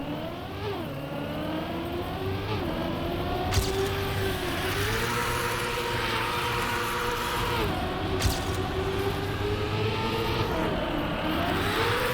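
A race car drifts in the video game Trackmania, its engine droning steadily with harmonics that rise and fall through gear changes and slides. The engine is loud and continuous, with two brief sharp clicks and no voices.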